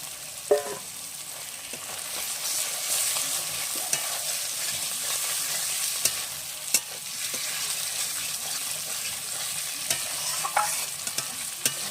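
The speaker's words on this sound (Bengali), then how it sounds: "দিয়ে যেরকম মাংস কষাই এরকম কষায় নেব।" Chicken pieces being sautéed with a stirring spoon while cooking a chicken curry with taro root, with a continuous sizzle and occasional scraping clacks of the utensil against the pan.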